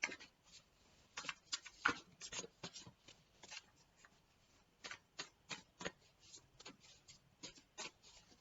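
A deck of cards being shuffled gives quiet, close-up bursts of papery riffling and flicking in an uneven rhythm, with no talking.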